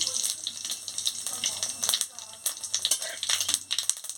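Dried chillies, bay leaves and whole cumin sizzling in hot oil in a pan, a steady crackling spatter with small pops, moderately close, under faint talk.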